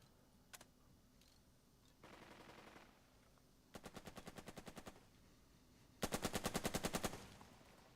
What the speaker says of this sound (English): Against my better judgment, I go ahead and use my MGs against this position.